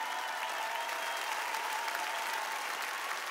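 An audience at a televised children's music awards show, Kinder MUZ Awards 2017, claps in dense, steady applause that holds at an even level throughout without breaks.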